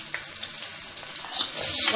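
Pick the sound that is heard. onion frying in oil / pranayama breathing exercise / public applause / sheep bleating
onion frying in oil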